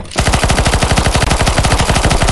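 Rapid automatic gunfire in the video game CS:GO zombie escape mod, a loud, close, continuous burst of evenly spaced shots that runs without a break.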